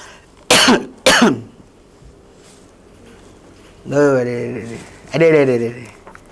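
Two sharp coughs close together, followed by two longer throaty, voiced coughs, loud and close with quiet gaps between.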